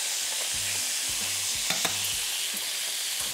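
Onion frying and being stirred in oil that has taken on the flavour of two velvet crabs, a steady close sizzle with soft rhythmic stirring scrapes throughout and no talking.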